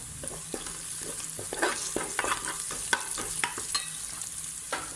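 Green chilli paste, chopped onion and ginger garlic paste fry in a pan for green chilli chicken, with a soft sizzle under a series of scraping stir strokes, close and quiet, with no talking.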